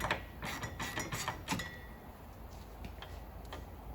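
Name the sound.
bolts being turned on rear suspension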